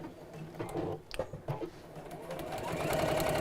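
A sewing machine runs a back stitch while sewing a piped bag, its fast mechanical whir starting after some brief handling knocks and then holding steady and fairly loud to the end.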